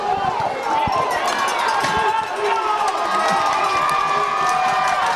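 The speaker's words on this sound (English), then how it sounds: "he really likes the crowd roar" A football stadium crowd roars steadily at a varsity game against Spalding, a dense, continuous wall of cheering and shouting that stays loud throughout with overlapping voices.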